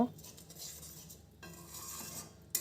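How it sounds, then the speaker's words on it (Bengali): A spoon stirs soybean curry spices with turmeric and chili powder in a pan, a faint, soft scraping and rubbing that goes on continuously for a few seconds, close by and alone. "হলুদ গুঁড়ো সব কিছু দিয়ে এবার একটুখানি নাড়িয়ে সুন্দর করে একটু কষিয়ে নেব"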